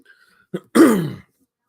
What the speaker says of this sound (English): I'm getting coughing all of a sudden.